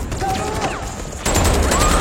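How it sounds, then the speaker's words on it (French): Rapid bursts of gunfire from a Walking Dead TV episode crackle in dense, overlapping volleys, growing louder and fuller midway through, mixed with other action noise. "Ça shoot dans tous les sens."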